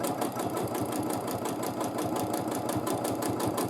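Sewing machine running steadily during free motion quilting, a fast even mechanical whir and rhythmic needle clatter, close and continuous with no pauses.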